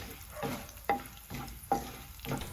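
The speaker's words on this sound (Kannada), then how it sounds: "ಇದಕ್ಕೆ 1 ಪೀಸ್ ಚಕ್ಕೆ, 2 ಏಲಕ್ಕಿ, 3 ಲವಂಗ, 1 ಟೀ ಸ್ಪೂನ್ ಧನಿಯಾ ಕಾಳು, 1/4 ಟೀ ಸ್ಪೂನ್ ಸೋಂಪು, ಸಣ್ಣ ತುಂಡು ಶುಂಠಿ, ಹಾಗೆ ಸ್ವಲ್ಪ ಬೆಳ್ಳುಳ್ಳಿನ ಹಾಕಿ ಫ್ರೈ ಮಾಡಿಕೊಳ್ಳಿ." Quiet frying of whole spices (cinnamon, cardamom, cloves, coriander seeds, fennel) with ginger and garlic in a pan, marked by a few rhythmic spatula scrapes over a faint sizzle.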